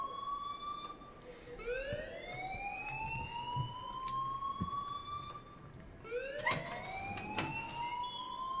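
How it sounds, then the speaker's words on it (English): A school alarm wails in the video game Life Is Strange, its pitch sweeping upward twice, each rise holding as a tone at moderate loudness, with no talking over it. "please turn off that alarm since that's your job"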